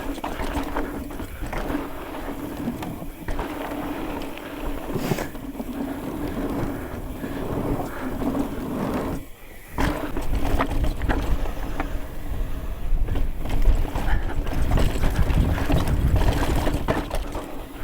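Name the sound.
strong wind howling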